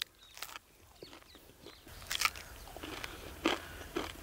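Crunchy street-style masala vada made with onion, green chilli and ginger, bitten and chewed up close: crisp crackling bites in several bursts with quieter chewing between, no talking.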